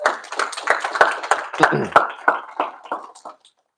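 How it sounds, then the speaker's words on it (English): A small group of high school students clapping for a guest speaker, sparse and uneven individual claps close by that thin out and stop after a few seconds, with no talk. "Give him a round of applause, too."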